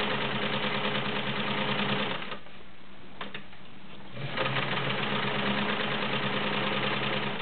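Vintage Kenmore 1750 sewing machine stitching through two layers of 4-ounce garment leather, a loud, close, steady mechanical whir with a brief pause in the middle before it resumes.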